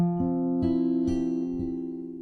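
A plucked guitar note rings out, struck again several times at a steady pace, each attack sustaining clearly with no voices.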